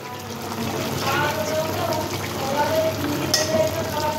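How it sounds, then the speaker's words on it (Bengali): Dried red chillies fry in a hot wok, giving a steady sizzling crackle under background noise. "তো কড়াটা তাঁতছে, এবার দিয়ে দিলাম শুকনা লঙ্কা"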